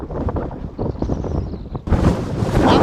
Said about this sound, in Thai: ลมแรงจนผมยืนแทบไม่อยู่เหมือนกันนะครับ